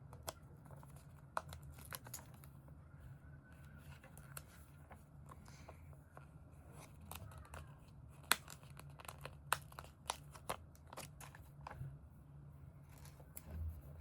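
Stickers are peeled and pressed into a paper planner. Faint crinkling, tearing and tapping sounds come in scattered bursts close by in a quiet room, with no talking.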